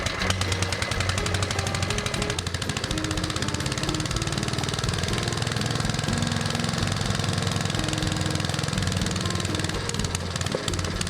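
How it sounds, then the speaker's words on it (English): A real car engine runs loud and close, climbing from a low, flat rumble toward higher revs with a rising, strained drone and a busy mechanical clatter throughout. "You can hear the difference from the low revs to higher revs."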